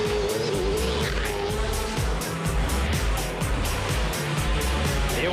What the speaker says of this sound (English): You're watching the Hamilton 400, the V8 Supercar Championships, New Zealand home for round 3